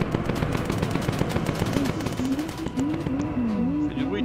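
Tail gunner's machine gun on a bomber in Bomber Crew, loud continuous rapid firing close by under a droning engine hum with a warbling tone rising and falling over it.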